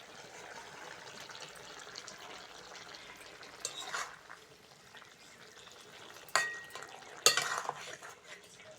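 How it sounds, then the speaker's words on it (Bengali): Pieces of fried amudi fish are added to a simmering curry with onion stalks. A low, steady bubbling sizzle continues, broken by a few sharp clinks of utensils against the pan near the end, with no talking. "ভেজে রাখা আমুদি মাছগুলো দিয়ে দেবো।"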